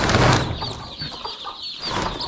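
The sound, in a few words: village chickens clucking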